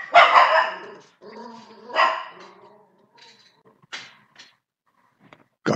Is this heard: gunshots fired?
no